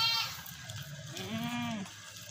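A pink Rajanpuri nanny goat with two kids gives one clear, drawn-out bleat near the middle, close and moderately loud over soft farmyard background noise.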